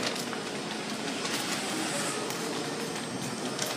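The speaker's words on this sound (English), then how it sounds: "Hey, trains." A train rolls past close by as a steady, broad rumble and rush that holds at an even level throughout, with a faint voice now and then underneath.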